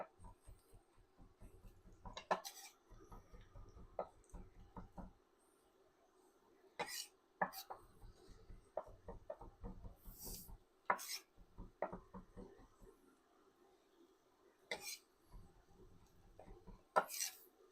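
A knife rocking back and forth through vegetables on a cutting board for tortilla soup, bursts of quick soft taps in short runs separated by pauses, close and fairly quiet, with occasional sharper knocks.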